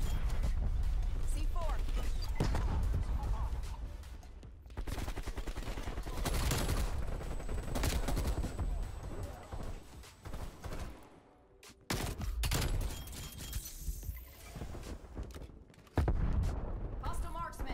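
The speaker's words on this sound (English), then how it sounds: "TACOM, get some artillery inbound on my cohorts." Call of Duty Black Ops match with artillery strike booms and bursts of gunfire, heavy blasts and rattling shots rising and falling over several seconds while a player talks over the action.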